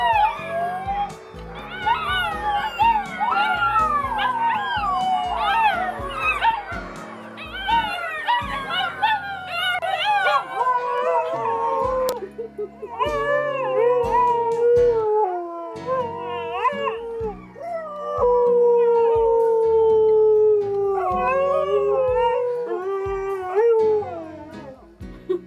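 Several dogs howl together in long, wavering, overlapping cries that rise and fall, loud and close, continuing steadily throughout.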